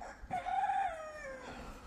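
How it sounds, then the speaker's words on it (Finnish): A single rooster crows once, quiet and somewhat distant, in a rising then long falling call lasting about a second and a half. "Ja kukko huuta."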